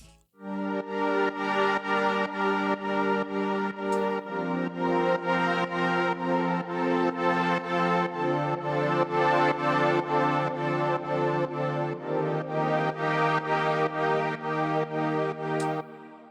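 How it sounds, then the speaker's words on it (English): Sustained synth chords pump rhythmically, their volume ducking and swelling in a steady side-chained pulse, changing chords every few seconds with no voices. "First, there are some synths which are playing the chords side-chained"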